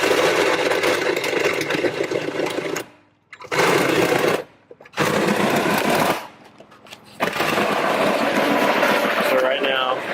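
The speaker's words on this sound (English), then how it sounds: "He's drilling the holes to put the lines" A power drill whines in long, loud bursts drilling holes for clutch lines in a Nissan 240SX, stopping briefly between runs, with a faint clatter in the pauses.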